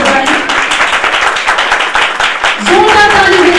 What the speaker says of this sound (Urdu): آئیں یسوع مسیح کے لیے زوردار تالی بجائیں